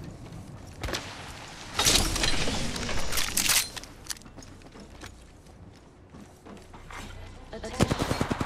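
Video game gunfire crackles in irregular bursts of loud shots, with a dense cluster early, scattered pops in the middle and a sharp rapid volley near the end.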